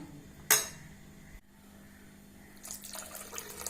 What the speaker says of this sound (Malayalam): ഇത് 2-ാം പാലാണ്. ഞാൻ കുറച്ച് ഒഴിച്ചു കൊടുത്ത് നോക്കി.